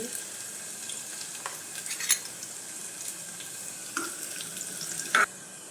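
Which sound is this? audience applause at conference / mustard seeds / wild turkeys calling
mustard seeds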